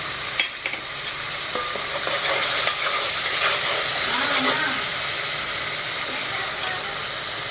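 Curry leaves frying in oil in a home kitchen, stirred in the pan, a steady close sizzle with scraping of the utensil, over a continuous low background hum.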